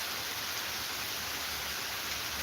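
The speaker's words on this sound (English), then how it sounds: "That rain will put you back to sleep now." Steady rainfall, a constant broadband hiss of drops with no breaks or voices, even and moderately close throughout.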